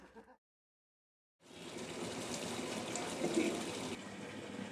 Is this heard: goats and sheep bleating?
no